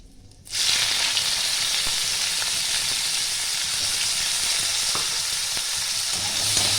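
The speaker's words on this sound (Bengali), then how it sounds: "পেঁয়াজটা একটু ভেজে নেব।" Chopped medium-sized onion frying in a pan with a dried red chilli and bay leaf, a steady close sizzle that starts abruptly and holds evenly throughout.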